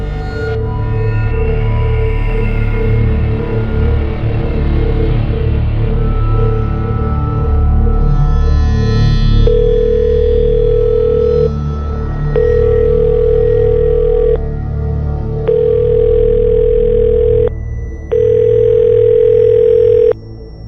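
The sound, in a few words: telephone ringing unanswered, dial tone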